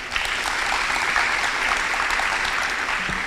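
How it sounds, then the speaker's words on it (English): Sustained audience applause at a senior school graduation ceremony at Oshwal Academy Mombasa, a steady, dense wash of clapping filling the whole stretch without talk. "Can we please have another round of applause for her?"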